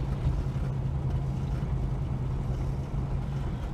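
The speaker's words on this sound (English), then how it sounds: "The woof out the exhaust pipe is a little bit different to what it normally was." Low, steady exhaust rumble from a Holden HK car being driven around town, its note sounding off from normal, a continuous close drone with no talk.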